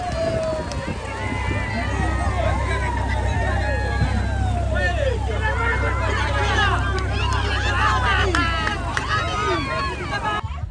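Crowd at a village race on a small Indonesian island, a lively babble of many voices with shouts and cheers rising and falling continuously over a low rumbling background, close and steady throughout.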